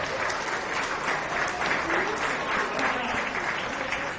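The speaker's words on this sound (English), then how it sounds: "Let's give her a round of applause." Audience applause fills a county fair beef show ring after a feeder steer class, steady and dense clapping from the crowd with a voice faintly underneath.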